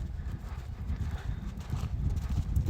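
A horse lopes while being schooled for cow work, its hooves clip-clopping in a steady, fairly close rhythm over a soft background rumble, with no talking heard.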